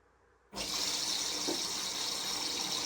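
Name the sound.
Bosch washing machine filling with hot water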